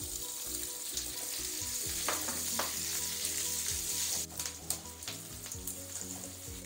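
Chopped onions and garlic fry in hot oil in a pan, a continuous dense sizzle and crackle with occasional stirring scrapes and a brief burst as more is added.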